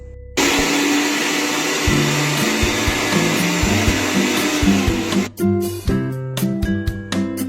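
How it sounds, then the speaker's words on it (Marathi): Kitchen mixer grinder blending green chillies, ginger, garlic and coriander into masala, a loud steady whirring motor whine that cuts off after about five seconds, followed by clattering knocks. "हे एकत्र मसाला वाटून घेऊ."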